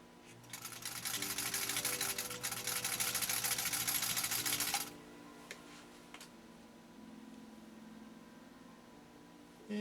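A 1949 Singer 66-8 sewing machine stitching, giving a loud, steady whirring clatter for about five seconds before it stops. Softer mechanical ticks and a low hum follow, with no voices.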